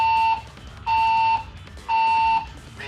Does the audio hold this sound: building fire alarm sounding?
yes